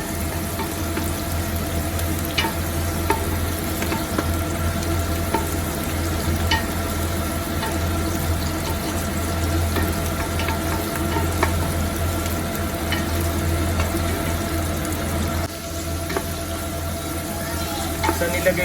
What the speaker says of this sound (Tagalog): So yan, igigisa lang natin yung bawang sibuyas.